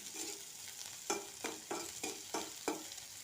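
Chopped onions and spring onions frying in hot oil with black cumin for a fish curry, a steady sizzle broken by about six sharp stirring scrapes and bursts, close and clear with no talk.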